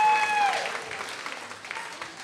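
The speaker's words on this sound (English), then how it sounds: "let's give our volunteers a round of applause." A church congregation at a morning service claps for volunteers, a moderate round of applause that starts fuller and gradually thins out, with faint tones at the start.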